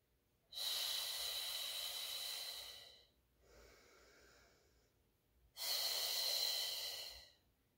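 Heavy breathing during a Pilates mat exercise, a side plank: long, loud hissing breaths close to the mic, a strong inhale, a softer exhale, then another forceful breath.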